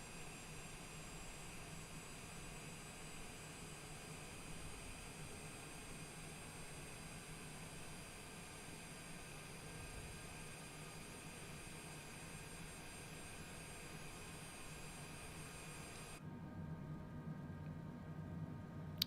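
Aircraft jet engines spool up in a NetJets business jet in Microsoft Flight Simulator, a steady loud whine and roar holding throughout with no talk, the tone shifting slightly near the end.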